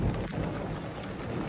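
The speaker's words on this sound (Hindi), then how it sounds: "पिछले आधे घंटे से बारिश हो रही है लगातार।" Heavy rain with thunder during a sudden downpour in the mountains: a dense, loud hiss of falling rain with a low rumbling roll underneath, steady and close throughout, no voices.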